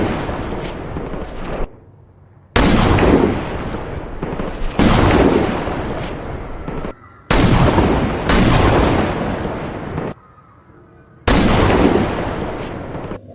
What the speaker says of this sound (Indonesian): terlihat seorang sniper bernama Charlie menembakkan senapannya ke arah target secara acak.